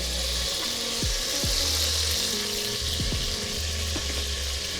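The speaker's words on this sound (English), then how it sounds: "in a large pot or Dutch oven, we are going to be melting some butter" Butter melts and sizzles in a large pot or Dutch oven as vegetables are sautéed for lobster bisque. A steady, close frying hiss runs throughout, with some low background tones.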